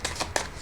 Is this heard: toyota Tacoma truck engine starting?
no